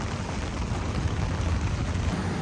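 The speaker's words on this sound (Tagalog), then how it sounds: "medyo malakas ang ulan" Heavy rain pours steadily and loudly at an outdoor Philippine festival, a dense, unbroken wash of drops with no voices over it.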